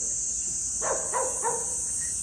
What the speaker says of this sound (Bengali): বাট ডগি সাহেবরা চিল্লাই যাচ্ছে